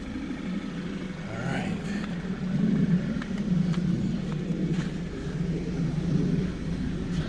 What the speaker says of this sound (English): Now she's idling like a baby.